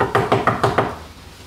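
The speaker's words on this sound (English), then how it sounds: "He tries to open the door" Five quick, evenly spaced knocks or rattles on a locked school door, loud and close, then fading into quiet.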